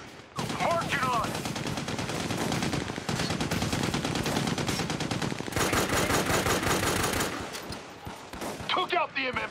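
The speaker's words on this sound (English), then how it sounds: "Machine guns pinning us down out here." Sustained machine gun fire rattles through a firefight in Army of Two: The Devil's Cartel, dense bursts of gunshots running almost continuously and loud, with brief pauses and faint voices mixed beneath.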